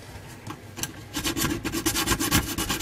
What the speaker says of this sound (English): we'll just try and deburr the plastic on that side there